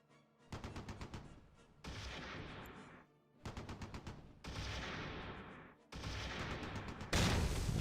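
Rapid bursts of machine gun fire from the Close Combat 3 war game crackle in several long rattling volleys separated by short gaps, loud and dense with echoing tails.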